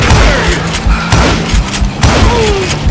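Booming gunfire from the Wild West shooter Call of Juarez Gunslinger, with a dense volley of loud, punchy shots and thuds in quick, uneven succession throughout.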